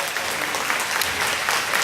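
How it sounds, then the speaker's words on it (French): Dense, continuous applause from an audience at a seniors' dinner in Mantes-la-Jolie, a steady wash of many hands clapping, fairly loud and close, with no speech over it. "Nadine Vadou, on l'applaudit bien fort"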